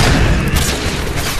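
Grenade explosions in Modern Warfare 2 gameplay, a dense burst of loud booming blasts rolling together for a moment, close and heavy, with no talk.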